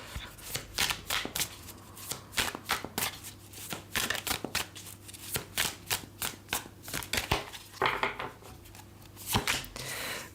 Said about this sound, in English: Okay, I'm going to reshuffle. This I'm supposed to shuffle here.